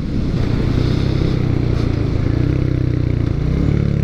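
A 2022 Royal Enfield Hunter 350 single-cylinder motorcycle rumbles steadily while running through the gears, a close, continuous throbbing growl with clattery texture and no talk over it.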